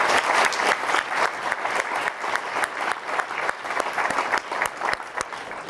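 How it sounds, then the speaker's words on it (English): Audience applause fills the hall at a journalism awards ceremony, a steady, dense clatter of many hands clapping for several seconds without pause. "let's give them a round of applause"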